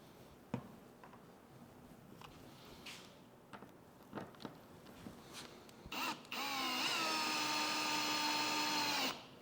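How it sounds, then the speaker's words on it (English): A power drill bores holes for screw-in anchors, starting with scattered taps and handling clicks before a loud, sustained high whine kicks in close by for the last few seconds. "I need to drill the holes big enough for the really nice screw-in anchors."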